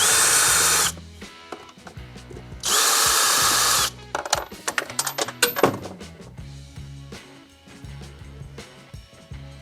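Power screwdriver loosening the four screws on the air filter cover of a Skoda Octavia 2, heard as two loud sustained whirring bursts followed by clattering, rattling handling noises close by.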